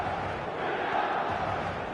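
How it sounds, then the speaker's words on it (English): A stadium crowd in a football video game roaring in reaction, a steady, loud wash of massed voices and cheering with no distinct talk. "the crowd are reacting to that now"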